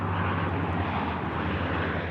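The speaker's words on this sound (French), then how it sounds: "Survol de l'avion rouge et jaune des pompiers au-dessus de Gérardmer." A red and yellow Canadair firefighting plane flying over Gérardmer, a steady broad engine drone with a low propeller hum, loud and continuous without talking.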